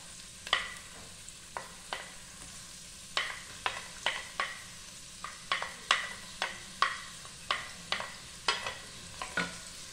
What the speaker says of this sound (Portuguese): gente vai aqui refogar o nosso alho e a nossa cebola